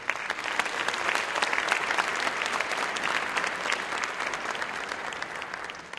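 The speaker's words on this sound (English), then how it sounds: "Please give a round of applause to the men of Phi Alpha Delta Law Fraternity." A large audience at a college Founder's Day convocation applauds steadily, dense crowd clapping holding at an even loud level for several seconds with no speech.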